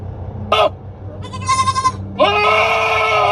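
A goat bleats loudly and nearby in three calls: a short blat, then a wavering, quavering cry, then a long, sustained, strident bleat, all over a low background rumble.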